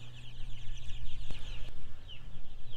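One-week-old broiler chicks on pasture, a steady close chorus of soft clucks and peeping chirps with a couple of sharp clicks, no talking.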